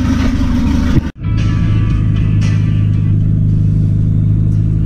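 A turbocharged car engine hums steadily from inside the cabin, a smooth low drone with a brief dip partway through, loud and close.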